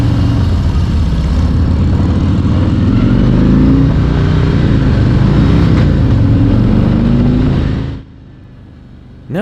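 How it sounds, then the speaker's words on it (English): A Harley-Davidson Street Glide with the 114 engine and stock exhaust pipes revs loudly and close, its deep rumble rising and falling through several throttle blips before cutting off abruptly near the end. "The stock pipes are not loud, but they do have a rich, deep pitch that just makes you want to give it more throttle."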